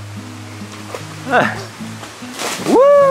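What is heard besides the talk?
kids jumping into water, splash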